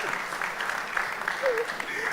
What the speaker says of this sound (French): Allez, venez l'équipe, on les applaudit.